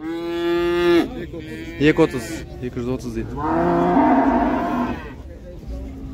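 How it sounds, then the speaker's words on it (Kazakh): A cow with her calf at a livestock bazaar lows loudly in a long call, then again after a brief pause while someone speaks nearby, with market hubbub throughout. "Бұзаулы сиыр."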